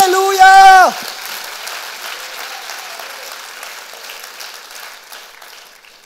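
A church congregation applauds together, beginning with a brief raised voice before a steady wash of clapping that fades gradually over several seconds.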